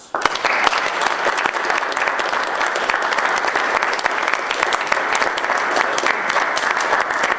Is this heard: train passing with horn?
no